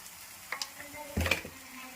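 Spice powders fry in a pan for mushroom gravy, giving a low sizzle broken by a few quick scraping stirs and light clicks from a utensil.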